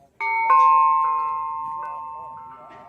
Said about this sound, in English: These wind chimes, they sound beautiful.